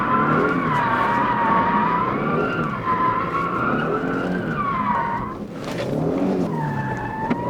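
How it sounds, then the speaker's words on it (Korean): A Genesis G70 drifts with its tires squealing loudly in long, wavering, pitched screeches over the engine's roar. The squeal dips briefly before resuming. "스팅어처럼 딱 이렇게 드리프트 딱 돼야죠"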